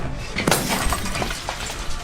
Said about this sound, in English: So they smashed that emergency light too.